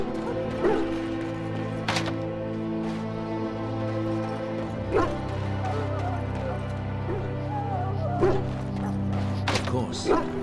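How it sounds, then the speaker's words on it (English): Sick hounds in a Dragon Age Origins army camp whimper and give a few short barks over a steady low background hum, with occasional sharp knocks and clatter through the scene. "Half the dogs are sick from Darkspawn blood."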